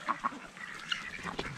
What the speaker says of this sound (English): Oh, muddy duck.